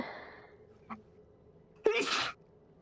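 A single sharp sneeze bursts out near the end, preceded by a faint sniff, in an otherwise quiet room during a tabletop role-playing game session.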